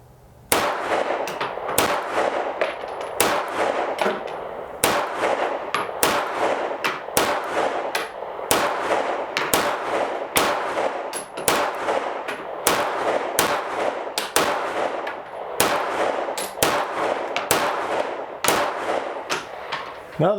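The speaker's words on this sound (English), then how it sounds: "We're gonna take some more shots at it," CZ Shadow 2 pistol firing a long string of rounds at a range, sharp loud shots coming in rapid, mostly even succession with brief gaps between bursts.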